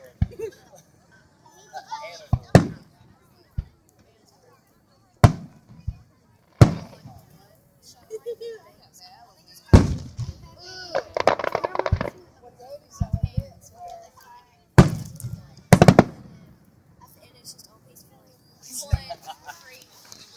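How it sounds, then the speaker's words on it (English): Fireworks over Dolphin Island burst in sharp, booming cracks spaced irregularly, some in quick crackling clusters, while children chatter and people talk nearby. "I have to say, that's been fun to see fireworks."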